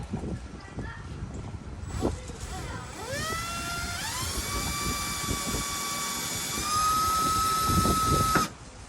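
A power drill whines steadily while drilling a pilot hole for a rod holder on a catamaran, its pitch rising as it spins up and bites into material, with some background clatter at the start.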